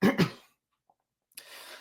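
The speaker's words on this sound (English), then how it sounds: "It's making me cough." A person coughs twice in quick succession, close and sharp, from breathing gasoline vapors, followed by a pause and then a softer breathy throat noise.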